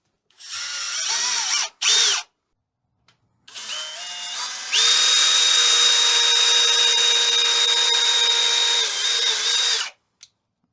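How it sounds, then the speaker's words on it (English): A power drill whines as it bores pilot holes into wood: two short bursts, then a pause, then a long sustained run of close, loud motor whine that stops abruptly. "These are just pilot holes. Just try to help it from splitting."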